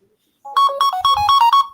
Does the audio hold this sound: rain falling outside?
no